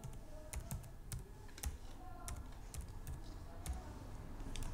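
Someone types on a computer keyboard while working in Microsoft Word, producing a close, irregular run of light key clicks over a faint steady background hum.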